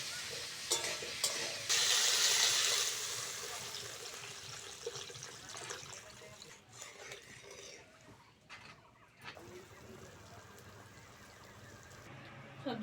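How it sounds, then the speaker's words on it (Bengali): Water poured into a pan of frying vegetables while cooking vegetable oats khichdi, giving a loud burst of sizzling and hissing that settles into a steady simmering bubble with faint stirring clatter. "এবার জল দিয়ে দেবো।"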